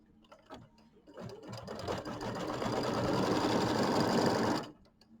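A sewing machine stitches an embroidered quilt block. A few soft taps and short bursts lead into a steady, fairly close whir that runs for several seconds, then stops abruptly.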